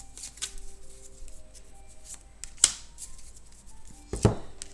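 Oracle cards being laid out and covered during a new moon reading, with soft papery slides and two brief, distinct slaps of cards set down close by in a quiet room.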